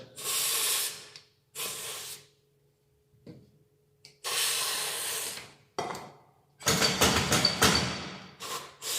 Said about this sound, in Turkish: yağlama spreyiyle şu iç kısmını güzelce yağlıyorum arkadaşlar